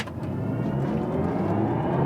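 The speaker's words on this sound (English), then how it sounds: "maximum acceleration, let's go." BMW i4 M50 electric car accelerating hard in sport boost mode, a steady, loud, rising drive whine and road rumble from inside the cabin, continuous with no talk.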